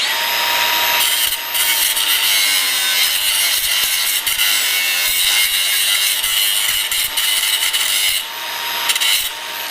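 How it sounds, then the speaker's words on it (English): A grinder grinds down a broken tap in metal, producing a loud, continuous, harsh high-pitched whine and rasp that holds steady throughout, with a brief dip near the start. "We're going to get back to our grinder"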